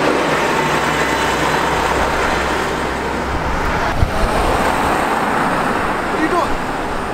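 Car traffic passes on a city road near a crossing where a bus is present: loud, steady roadway rumble and engine noise with vehicles going by, and people talking in the street.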